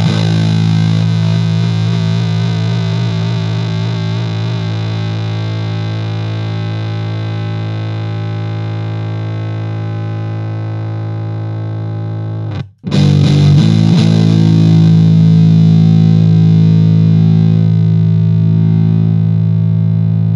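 An electric guitar through a Big Muff fuzz pedal plays a thick, distorted sustained chord, loud and close, then cuts out for a moment before a fresh, fatter fuzzy chord rings on.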